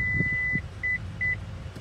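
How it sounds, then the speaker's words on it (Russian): Three short electronic beeps from a Lexus RX seat-folding button, the first longer and the next two brief and evenly spaced, heard close up in a quiet car cabin. "Оно пикнуло два раза"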